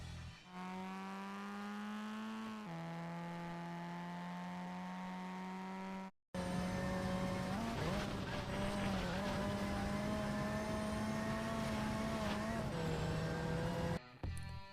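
Loud, continuous rally-car engine drone in a mobile racing game, with steady harmonic whine, shifting pitch as gears change, briefly cut off midway then resuming with tire noise.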